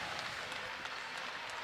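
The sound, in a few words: crowd applauding at basketball game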